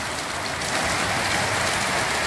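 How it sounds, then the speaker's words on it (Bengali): Heavy rain falls near a house on a hilltop, a thick, constant roar of close rainfall that holds level throughout. "তোমরা দেখতে থাকো শুধু বৃষ্টি।"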